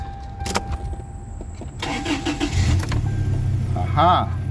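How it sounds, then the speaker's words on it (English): A 1998 Toyota Tacoma pickup truck engine cranks over and catches, then idles with a low rumble before a rising rev near the end. "I'm gonna rev the engine for you guys so you can hear it."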